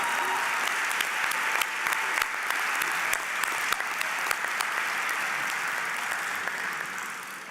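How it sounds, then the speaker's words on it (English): Sustained applause from a commencement ceremony audience for a ceremonial band and its conductor: dense, even clapping throughout that fades slightly at the end, with no one talking over it. "Let's give another round of applause to our ceremonial band and their conductor, Dr. Brian Hod."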